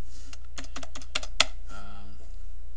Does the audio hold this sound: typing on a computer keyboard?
yes